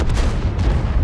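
A heavy, booming tank cannon blast in a video game fills the moment, loud and dense, with rumbling low end and a second thud following closely.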